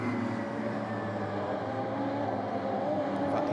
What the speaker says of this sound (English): a great big quintet of cars turning its way through Hislops